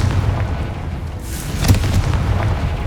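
A Confringo blasting spell goes off in Hogwarts Legacy, a single deep boom with a sharp burst near the middle, heard loud and close over low rumbling game ambience.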